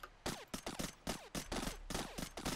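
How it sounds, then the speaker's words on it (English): Rapid bursts of video-game gunfire in TerraTech, repeated sharp shots in quick volleys aimed at a tree, loud and close with no talking. "I'm shooting that tree from way over here."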